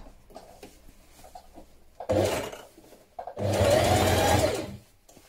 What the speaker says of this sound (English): using your top stitching thread, we're going to do it from the right side, close to that turn up